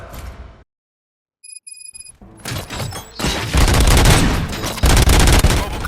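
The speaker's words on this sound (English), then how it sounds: "Gunshots? What's going on?" Game gunfire in RoboCop: Rogue City erupts in a loud, dense burst of rapid shots after a brief silence and a few electronic beeps, continuing heavily to the end.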